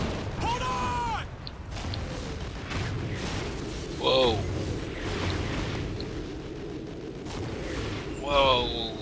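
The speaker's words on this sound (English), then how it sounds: "Enemy artillery inbound!" Enemy artillery fire in the Call of Duty Ghosts video game, heavy booms and rumbling blasts with mechanical clatter and whistling tones, mixed under shouted battle voices.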